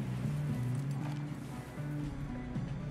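Steady clip-clop of horse hooves in a quick rhythm in the video game Red Dead Redemption 2, with a low droning bed of game sound underneath.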